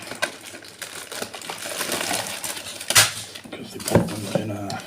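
Thermalright TL-C12C fans are pulled by hand from their cardboard box and plastic bag, giving close, continuous rustling, scraping and clattering handling noise with a few sharper knocks.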